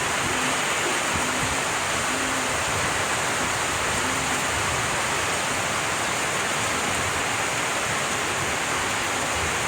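Heavy morning rain pours down in a dense, steady roar that holds at the same loud level throughout, with no voices and no pauses.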